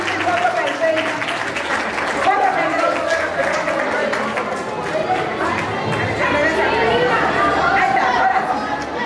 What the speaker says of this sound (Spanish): Quiero darle un aplauso